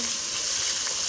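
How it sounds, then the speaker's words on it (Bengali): Fish fries in a pan, a brief, bright, steady sizzle heard up close with no other sound. "মাছ ভাজা"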